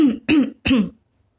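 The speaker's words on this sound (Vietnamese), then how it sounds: "Người áo trắng còn đang ho khan" A character in a Vietnamese audio drama coughs dryly, three harsh coughs in quick succession, close and loud, then quiet.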